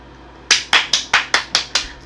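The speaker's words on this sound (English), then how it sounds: "claps for Coleman Domingo" A single person claps their hands for an actor, seven crisp, evenly spaced claps after a short quiet start, close and fairly loud, with no talking.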